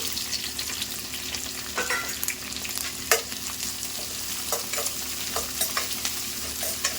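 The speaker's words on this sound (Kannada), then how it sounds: "ಈಗ ಇದಕ್ಕೆ ಕಟ್ ಮಾಡಿ ಇಟ್ಕೊಂಡಿರುವಂಥ ಈರುಳ್ಳಿನ ಹಾಕೋಣ" Chopped onions fry in a pan for chicken masala, giving a steady close sizzle with scattered stirring scrapes and clicks throughout, no voices.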